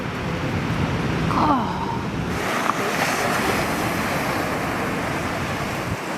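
Large ocean waves crash onto the Portuguese coast at Samoqueira beach in a steady, roaring surf with strong wind buffeting the microphone, one brief exclamation and a faint voice near the middle.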